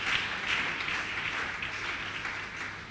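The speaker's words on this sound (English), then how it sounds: "Give the Lord a much better clap offering." Church congregation clapping hands during a sermon, a steady dense wash of applause that holds at an even level throughout without pauses.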